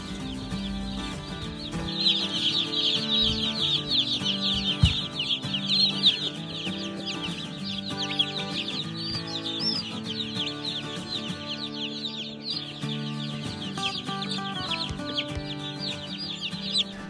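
A newly arrived batch of Cornish cross chickens keeps up a steady chorus of clucks and high peeps, dense and close, with occasional clatter and no talking.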